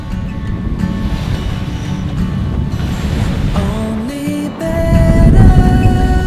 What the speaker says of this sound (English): we are in a racing boat at the moment